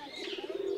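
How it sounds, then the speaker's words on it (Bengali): A domestic pigeon of a local breed gives a short, soft, low coo lasting under a second, heard close and alone. "এই কবুতরটা আমার অনেক পছন্দের একটা কবুতর, দেশি কবুতর হইলেও অনেক সুন্দর"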